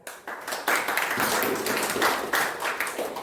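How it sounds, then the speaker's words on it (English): An audience at a book review competition breaks into applause, building quickly from a few claps into a sustained, dense round of many hands that holds steady before easing slightly. "A big round of applause for him."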